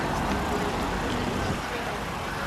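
A 2008 Chrysler 300C SRT8 driving with a steady, loud broadband engine and road roar, continuous under a voice talking.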